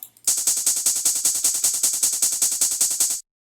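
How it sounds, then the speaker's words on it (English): A fast, even run of three layered hi-hats, bright and crisp, ticking steadily for about three seconds before cutting off abruptly. "And I layered 3 hi-hats."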